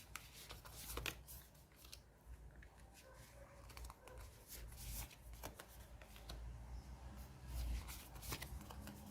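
Tarot cards are shuffled in repeated soft, riffling bursts close up, with quiet background hum and no speech.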